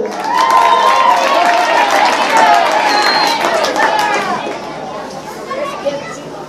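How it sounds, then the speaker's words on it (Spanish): A school audience at a ninth-grade play claps and cheers for a character, a loud burst mixed with children's chatter and shouting voices that gradually settles. "Un aplauso para el futuro alcalde del sur de Magdalena"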